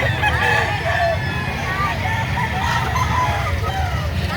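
An eight-month-old stag rooster crows amid a busy outdoor poultry market, loud and close over a dense crowd murmur and traffic rumble, while people talk nearby.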